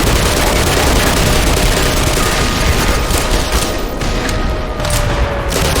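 Dense, sustained gunfire from the Black Mesa video game, loud and close, with rapid shots blurring into a continuous roar for the whole stretch.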